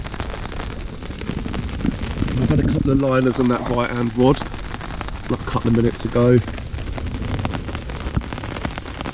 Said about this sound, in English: Yeah, don't mind a little bit of rain,